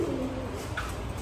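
A pigeon gives one short, soft, low coo in a quiet setting among a healthy flock of kept pigeons.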